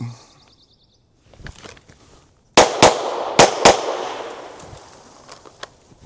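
Pistol firing reloaded 147 grain practice rounds at an outdoor range: four sharp, loud shots in two quick pairs, each echoing briefly, after a few faint clicks and handling sounds.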